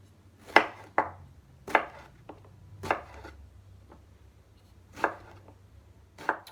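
A kitchen knife chops eggplant into cubes on a board, about seven crisp, spaced strikes with quiet pauses between, close and clear with no talking.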